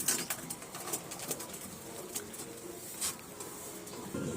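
Pigeons in a loft make soft, faint cooing and fluttering rustles, with scattered light pecks and scrapes nearby.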